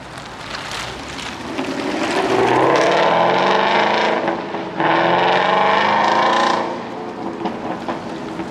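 A 2025 Mazda CX-50 base model drives along, its engine note rising and falling with two stretches of stronger acceleration over steady road and cabin noise, heard from inside the car.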